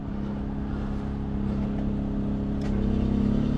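A 2016 Volkswagen Tiguan engine with a crank-no-start fault cranks steadily without catching, a continuous low droning whir that grows slightly louder toward the end, no talking.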